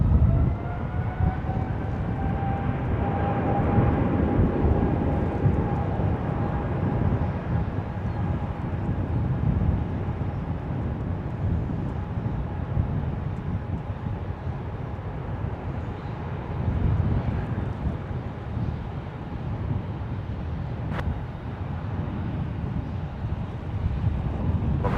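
A Lufthansa Retro airliner on its takeoff roll at San Francisco makes a distant, sustained jet roar with a rising engine whine, set against steady wind rumble and no talk.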